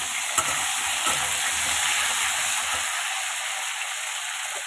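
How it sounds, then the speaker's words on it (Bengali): Potato pieces and flat beans fry in an oil-filled pan on a gas stove, giving a steady, close sizzle with faint stirring scrapes and no talking. "এই যে আলু আর শিম, এগুলোকে একটু লাল লাল করে ভেজে নেব।"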